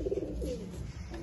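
Old line pigeons coo in low, throaty pulses close by, a short soft burst of cooing with faint background noise.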